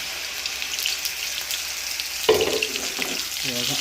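Curry leaves hit hot oil in a pan for beetroot chutney and burst into a loud, bright crackling sizzle, with a steady frying hiss before and stirring after, and a brief spoken word.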